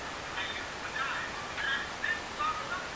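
Ducks by a river fishing spot at the Bang Bua Thong lock on the Chao Phraya, giving about five faint, rasping quacks in a loose rhythm over steady outdoor background noise, with no talking.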